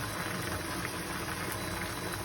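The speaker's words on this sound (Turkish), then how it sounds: "Makarna da gördüğünüz gibi bayağı tek tek kaynıyor." A steady, dense bubbling hiss of pasta in water at a rolling boil continues throughout without pause, fairly close.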